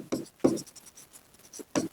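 Chalk or marker strokes scratch across a board in short separate bursts while a proof is being written out, with no talking over them.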